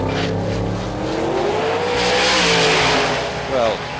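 Red Victor 3 Pro Mod drag race car launching at the 2011 FIA Euro Finals, a loud engine roar rising in pitch as it accelerates, with crowd and track noise and possible voices underneath.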